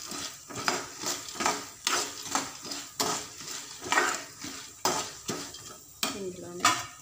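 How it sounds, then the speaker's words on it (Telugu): Chana dal, urad dal, peanuts and mustard seeds frying in oil in a pan, with rhythmic scraping stirs and clinks of a spatula repeating roughly every half second over a soft sizzle, close and with no talk. "శనగపప్పు, మినపప్పు, పల్లీలు, ఆవాలు వేసుకుని వేయించుకోవాలి."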